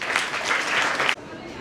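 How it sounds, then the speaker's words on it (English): Audience applause at a school Republic Day event in Hyderabad, a burst of lively clapping that cuts off abruptly, leaving a quieter room. "So give a huge round of applause for our girls."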